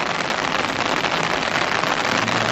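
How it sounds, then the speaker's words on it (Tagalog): Heavy rain drums on parked cars in a dense, loud, unbroken roar that holds steady throughout with no voices. "Silong muna tayo guys dahil ang lakas na ng ulan."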